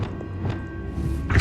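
A spell being cast in Hogwarts Legacy, with a game score humming underneath, several soft thuds and a brighter whooshing burst rising near the end.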